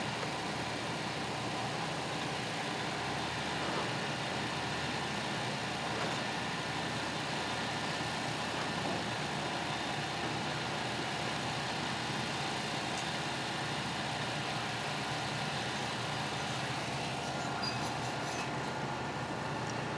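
A chainsaw engine idling steadily at a safety demonstration, a continuous even drone held at one speed without throttle changes, moderately loud with no speech.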